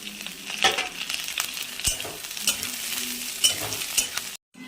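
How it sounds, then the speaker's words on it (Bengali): Potatoes, onion and green chili frying in oil in a pan, a continuous crackling sizzle with scraping stir strokes throughout, close and fairly loud, ending in a short silence. "আলু পেঁয়াজ লঙ্কা সব ভাজা হয়ে গেছে"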